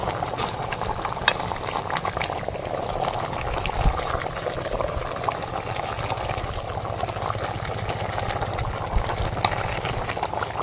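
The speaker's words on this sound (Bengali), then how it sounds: "দেখুন কত সুন্দর ফুটছে হাঁড়ির মধ্যে।" Country chicken curry bubbles and simmers in a clay pot, a soft, continuous burble with occasional small pops, heard close and alone.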